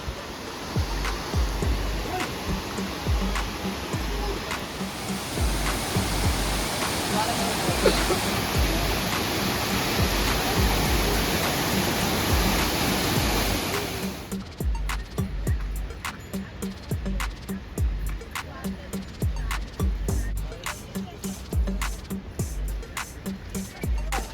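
Rudra Fall waterfall near Kedarnath roars as a dense, continuous rush of falling water, steady and loud throughout with no break, like a close mountain cascade.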